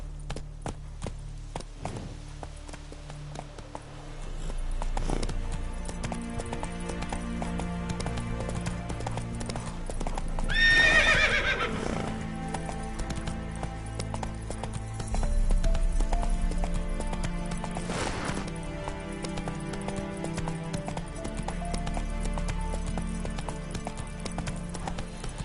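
Roach, the horse in The Witcher 3, gallops with steady rhythmic hoofbeats throughout, a whinny rising clearly in the middle, over a faint game soundtrack.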